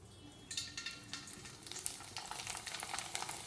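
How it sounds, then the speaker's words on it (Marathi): Sun-dried poha papad sizzle in hot oil. The steady, soft crackling frying starts after a brief quiet moment and continues alone. "तर आता आपण हे तळून घेऊयात"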